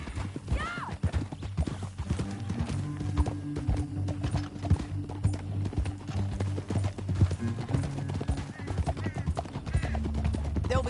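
A horse gallops in Red Dead Redemption 2, with rapid, continuous hoofbeats close up through a canyon, a whinny early on, and game music and ambience underneath.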